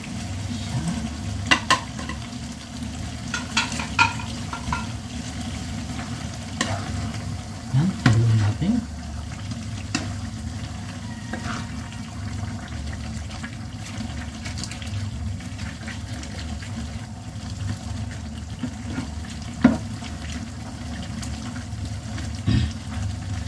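Dried anchovies (dilis) frying in a pan give a steady low sizzle with occasional stirring scrapes and clinks, continuous and close throughout.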